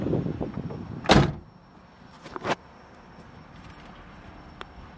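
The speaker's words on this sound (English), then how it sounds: "And we'll close the door." A 1973 Chevrolet Corvette Stingray coupe door slams shut with one sharp close, followed by a softer latch-like thunk and quiet interior ambience.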